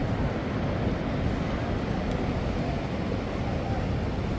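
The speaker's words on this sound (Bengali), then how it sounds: "সমুদ্রের গর্জন শুনতে পাচ্ছেন নিশ্চয়ই" Steady broadband roar of sea surf at Cox's Bazar beach, continuous and fairly loud with wind rushing over the microphone, no clear breaks between waves.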